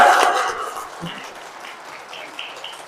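Congregation clapping in Cheonma Catholic church in the Uijeongbu diocese, a loud round of applause at the start that fades quickly under a quieter background.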